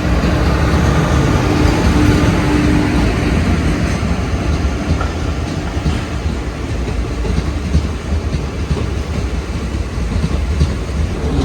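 The Mangalore–Coimbatore Express, hauled by a WAP1 electric locomotive, rolls into Kanhangad station in a loud, steady, close-up roar of wheels and rail noise that lasts throughout, with faint clickety-clack underneath.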